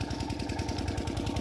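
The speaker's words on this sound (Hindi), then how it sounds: "इंजन लगा है हमारे खेत में पानी भर रहा है।" A farm engine runs beside a field, pumping water to flood it, with a steady, fast rhythmic chugging heard at moderate distance, fairly faint and alone.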